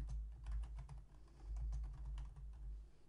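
Typing on a computer keyboard, a steady run of close, crisp key clicks in an irregular rhythm, with no voices.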